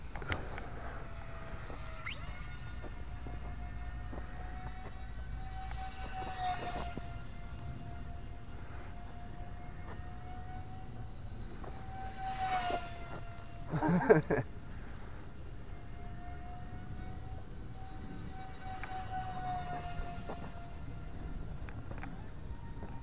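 E-flite UMX A10 Thunderbolt II RC jet with twin 30mm electric ducted fans, flying outdoors at about half throttle: a steady, whining fan tone drifts throughout, with a brief louder burst as it passes near a building and occasional faint voices.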